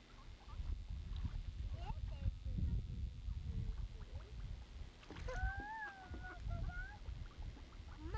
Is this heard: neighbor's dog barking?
no